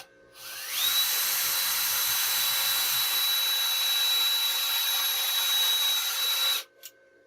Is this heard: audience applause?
no